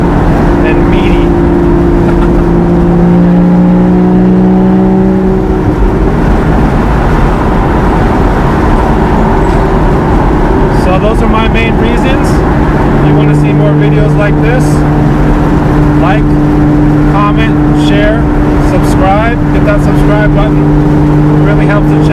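Porsche Boxster Spyder engine, revving toward 8,000 rpm, drones steadily close by with sustained tones that climb and shift, a deep continuous mechanical note running for the whole span with a voice talking over it.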